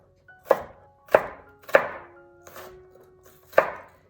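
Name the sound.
chopping food on a cutting board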